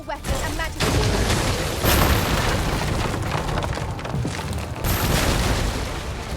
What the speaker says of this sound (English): breaking the bridge with your spells